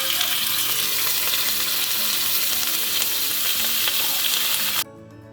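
Garlic sizzles steadily in hot olive oil for fried rice, a dense, loud frying hiss with faint stirring that cuts off abruptly near the end.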